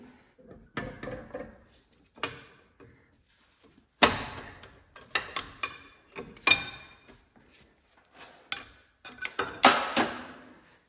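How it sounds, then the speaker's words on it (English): Small pry bar working an axle shaft seal out of a Dana 30 differential, producing sharp metallic clanks, scrapes and knocks in irregular close-up bursts. "One is a little pry bar tool, which I will usually use if they pop out fairly easy."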